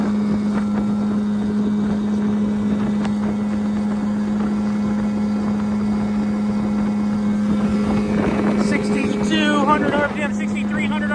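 A motorboat fitted with an 11-pitch propeller runs at high speed around 6,300 RPM, its engine holding a steady loud drone over rushing wind and water, with a voice speaking near the end.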